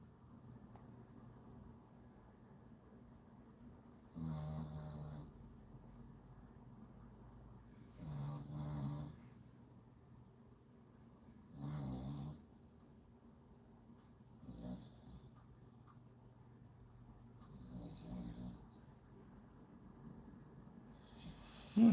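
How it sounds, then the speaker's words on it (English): A sleeping dog snores in slow, regular breaths, each inhale a soft rasping rumble followed by quiet pauses, fairly faint and close in a calm indoor room with no talking. "And perhaps I should record him and sell CDs of relaxing dog snore."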